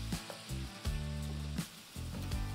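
Potatoes frying with honey in a pan, a steady sizzle and crackle with bursts of stirring and scraping, close and fairly quiet, without speech.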